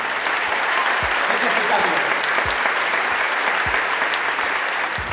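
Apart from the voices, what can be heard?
theatre audience applause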